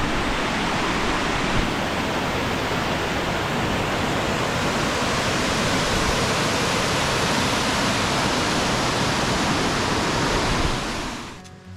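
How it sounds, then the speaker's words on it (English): Waterfall along a backcountry hiking trail near Ethan Pond, a loud, steady, full roar of rushing water that holds constant throughout before fading out at the very end, with no voices. "It's a spectacular waterfall."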